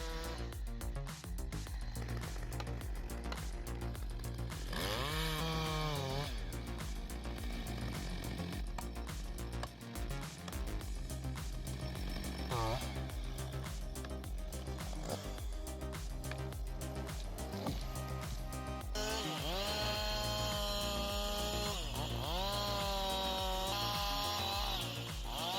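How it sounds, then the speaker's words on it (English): A big chainsaw cuts through a tree during stump removal, its engine roaring loud and steady throughout with rising and falling revs. "The way he handles that chainsaw."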